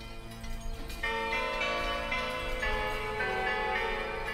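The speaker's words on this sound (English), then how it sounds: "Some parishes ring their bells to gather their people." Church bells ring for a parish, starting with scattered strikes and then swelling into sustained, overlapping metallic tones with a shimmering resonance that hangs steadily.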